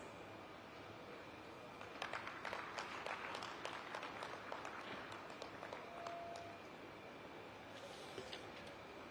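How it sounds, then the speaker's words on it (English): Audience applause at a conference session on IT and GCCs in Tier-2 cities in India, a steady wash of clapping from a crowd with a few louder bursts, moderately distant and continuous throughout. "Can we continue with the applause?"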